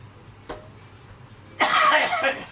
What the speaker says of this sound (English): I'm coughing a lot, ain't it?